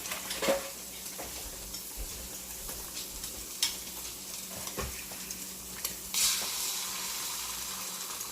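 Eggs for a cheese and potato omelette sizzle and hiss steadily in a frying pan, with a few sharp utensil clinks and scrapes against the pan breaking through the continuous frying noise.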